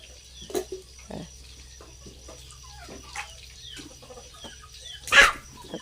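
Chickens on a rural Thai homestead where pork is being fried for breakfast, with a rooster-like call and scattered clucks among other farm noises, one loud burst near the end, no talk.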